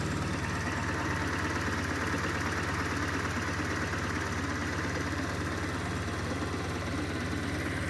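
A 2011 Kawasaki W800 motorcycle engine idles steadily and close by, a continuous low even rumble with a fine regular beat and no voices over it.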